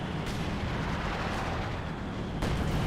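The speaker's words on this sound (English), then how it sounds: "Sexton firing another barrage" A Sexton self-propelled artillery gun fires a barrage in Company of Heroes 2 amid a dense battlefield rumble. Sharp reports land near the start and again near the end.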